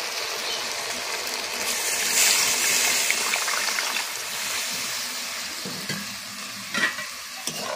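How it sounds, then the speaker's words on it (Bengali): Water poured into a pan of frying lemon-pepper gondhoraj chicken, a loud, close, continuous hiss and sizzle with bubbling and stirring that surges as the liquid hits the hot pan. "চলুন এবার একটু জল দিয়ে দেবো"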